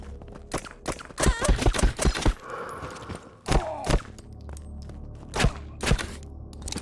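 Video-game gunfire dumps a magazine in sharp bursts, loud and close, with some shots rapid and others spaced out across the clip, and no voices heard.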